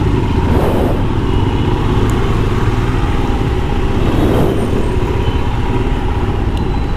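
Road traffic in a jam, heard from a commute to the office, forms a loud steady rumble of engines close by, with no speech and no clear breaks.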